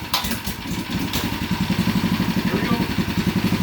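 Small mini bike engine with a sidecar attached, run outdoors in minus 20 cold, rattling at a quick idle with a steady pulsing beat that grows more regular, loud and close throughout.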